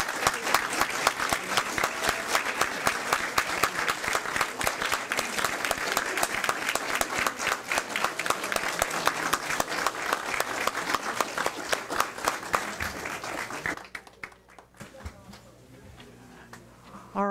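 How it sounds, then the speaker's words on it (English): A standing ovation at a school district board meeting: sustained, brisk clapping from a room of people for about fourteen seconds, then it drops off abruptly to quiet room tone. "if we could give her another standing round of ovation of applause"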